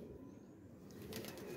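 Desi pigeons at a market sale, a soft rustle and brief flutter close by with faint background hiss, no talk.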